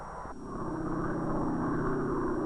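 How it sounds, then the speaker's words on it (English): Instrument planes for an atom bomb test at Bikini take off from an island base, their engine noise rising into a steady, fairly loud drone with a broad roar that holds to the end. "instrument planes take to the air from their base on a neighboring island"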